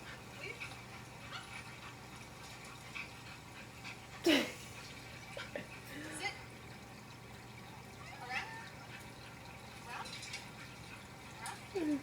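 Puppies whimper and yip in short, scattered bursts, along with faint panting, as they watch an adult dog perform tricks indoors. A person's voice talks quietly at times in the background.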